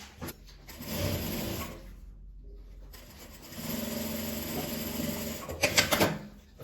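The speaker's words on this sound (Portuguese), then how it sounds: "E o tecido para passar um pesponto nessa parte aqui, a distância de meio pezinho de máquina." Close-up whir of a sewing machine topstitching fabric and lining, humming steadily for several seconds with one short pause and a few faint clicks near the end.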